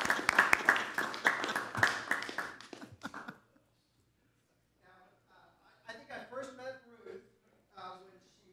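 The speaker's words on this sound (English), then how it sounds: "so that we can all give them a round of applause and take some pictures" A room full of people at a city council meeting gives a round of applause, with steady clapping for about three seconds, then a short hush before several voices begin talking.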